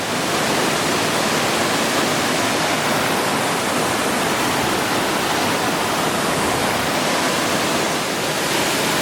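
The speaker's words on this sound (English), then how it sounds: "it's really delicate little cascade" A small, delicate waterfall cascades steadily down a hiking-trail stream in a forested setting, a continuous broadband rush of falling water, close and even with no voices.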